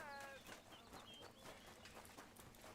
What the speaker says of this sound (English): That's cows.